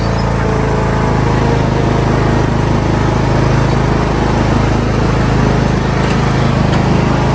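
A John Deere S100 riding lawn mower runs at full throttle, a loud, steady, unbroken engine drone that stays close and constant throughout with no talk.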